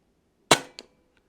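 An Air Arms S510 TC air rifle fires a single sharp, close crack at a target, followed moments later by a fainter short report and a tiny distant tick.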